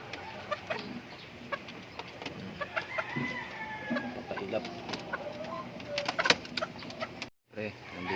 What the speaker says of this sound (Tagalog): dito naman sa baba yung mga bull stag ayan oh